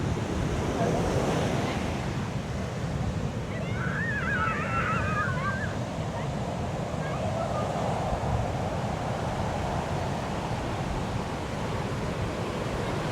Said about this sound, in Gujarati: હે મોજા તો જોઈ કે મોટા મોટા આવે